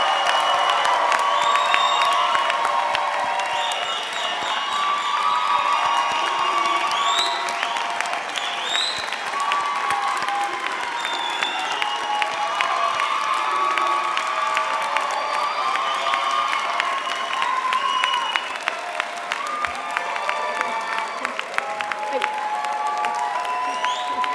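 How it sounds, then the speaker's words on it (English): Sustained applause and scattered cheers and whoops from the audience for graduates at the 2017 Pine Manor College commencement ceremony, a dense, even clapping that continues throughout. "Another round of applause for our graduates"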